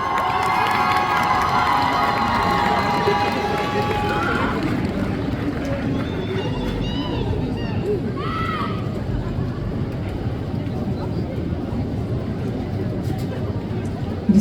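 A convention audience at a cosplay competition stage show cheers and claps loudly for a cosplayer, the dense crowd noise continuous throughout, with a voice and music briefly audible over it early on.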